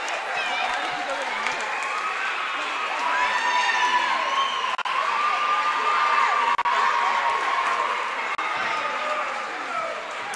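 A gym crowd at a girls' high school basketball game cheers and applauds a player's thousand-point milestone, sustained loud clapping with whoops and shouts, people talking and calling out throughout.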